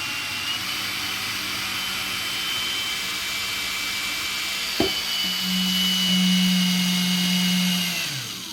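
An Einhell TP-CD 18/50 Li-i BL brushless cordless drill spins slowly with a steady whirring hum, then rises into a louder, higher-pitched motor whine near the end before winding down, with no talking.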